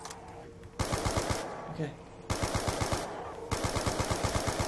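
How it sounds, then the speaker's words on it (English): Quick rhythmic volleys from a ray gun-like weapon in Black Ops 2 Zombies, three loud bursts of evenly spaced shots with brief pauses between, and a voice speaking briefly in a gap. "This thing's like a freaking ray gun."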